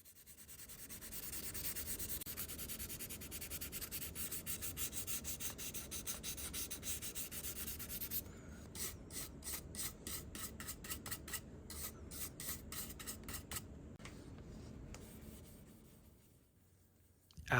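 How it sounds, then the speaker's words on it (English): Sandpaper works over a cast resin model car body, a Honda Integra DC5 kit, with close, steady scratchy rubbing. The motion then breaks into short back-and-forth strokes before fading out. "Then give the entire body a good sanding to make sure to get out any imperfections in the resin"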